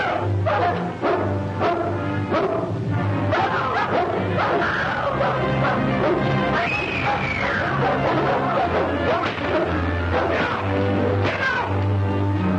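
Several dogs bark and yip repeatedly in an old 1940 serial, a busy overlapping chorus of barks over a low background hum, loud and close throughout.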